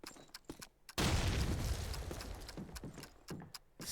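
A grenade in Call of Duty 2 multiplayer goes off with a loud booming blast and a long rumbling tail, framed by scattered clicks and distant gunshots.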